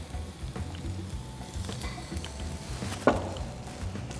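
Chopped onion and garlic fry in a pan with a soft, steady sizzle and crackle throughout, fairly quiet, with one sharper pop or clink about three seconds in.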